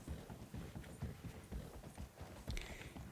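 Horse hooves clip-clop in a steady trotting rhythm as a rider approaches Saint-Denis in a video game, continuous and fairly close, with a soft ambient bed underneath.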